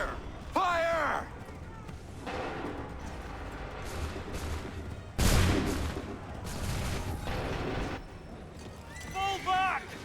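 A musket volley crashes out in Assassin's Creed III, a dense burst of overlapping gunfire around midway that rolls into a scattered crackle of shots, with shouted commands before and after.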